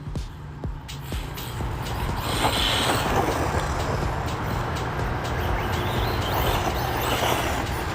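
Rlaarlo Omni Terminator Aluminum Edition RC car in speed gear driving off-road through thick grass, a steady loud whine of motor and drivetrain with grass swishing and rattling, holding close and constant throughout with no talking.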